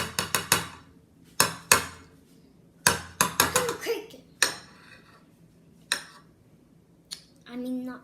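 Egg cracked open while mixing a microwave mug cake with Nutella, sharp clinks and taps of shell and utensil against a mug or bowl in uneven clusters, close by, with people talking around them.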